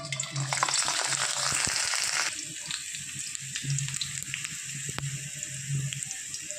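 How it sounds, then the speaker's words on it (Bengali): Garlic frying slowly in a pan over low heat, a close, steady sizzle that is loud at first and then settles, with occasional clicks of stirring. "হালকা আঁচে রসুনটা আস্তে আস্তে ভাজতে হবে।"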